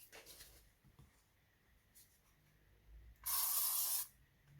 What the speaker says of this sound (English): let's just give that a spray with a hairspray